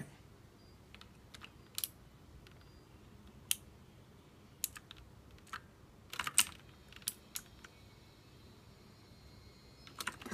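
A cheap computer keyboard is typed on in short scattered bursts of crisp key clicks, including presses of the enter key, faint against a quiet room hum.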